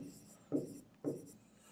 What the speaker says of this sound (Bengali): এখানে লিখে দিচ্ছি দেখো